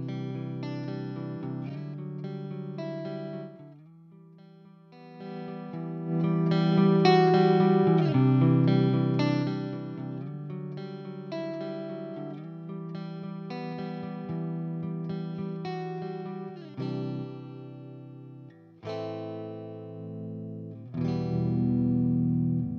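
An electric guitar plays through a Boss GE-7 graphic equalizer pedal, switching between clean and distorted metal tones, with sustained chords and picked riffs, some pauses between phrases and a loud, full sound throughout.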